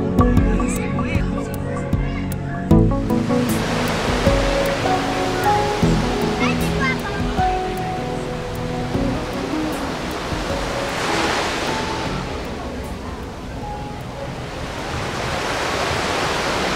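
Water surges back and forth in a 420,000-litre kelp forest aquarium tank driven by a wave simulator, a loud rushing wash that swells and recedes, with a voice speaking over it and faint clinks.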